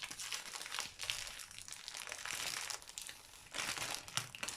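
Plastic wrapping on a pack of twelve 165 gsm A4 glitter paper sheets crinkles and tears as it is pulled open by hand, a close, busy rustle with brief louder bursts.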